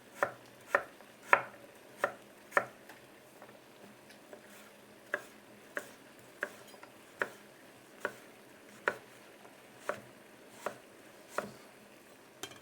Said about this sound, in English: I'm just going to split it in half, slice it up into sort of 1/4 inch slices.